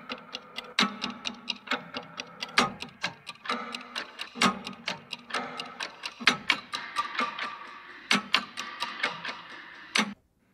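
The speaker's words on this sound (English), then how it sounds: "We have some clock loops," Looped clock percussion from a sample pack, a steady run of sharp mechanical ticks in even rhythm with occasional louder accented hits, close and dry, with no voices over it.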